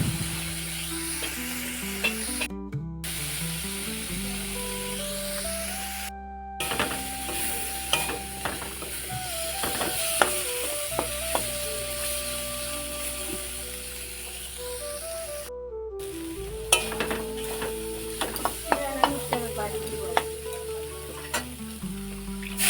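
Jute leaves fried in a pan with salt and turmeric, giving a soft, continuous sizzle with scattered clinks and scrapes of stirring under a backdrop of music, no speech.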